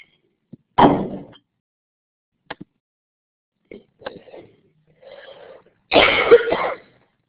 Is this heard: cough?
yes